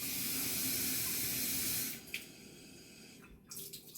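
Tap water runs loudly into a pot for boiling quinoa for two seconds, then shuts off, leaving faint kitchen clatter and a quiet hiss.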